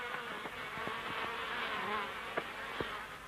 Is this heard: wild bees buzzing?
yes